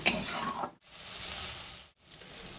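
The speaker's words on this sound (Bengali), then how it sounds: "এই কিছুক্ষণ আমি মশলাটাকে কষে নেব।" Spice paste frying and being stirred in a pan over low heat makes a soft sizzle, broken twice by short pauses, with a scrape of stirring at the start.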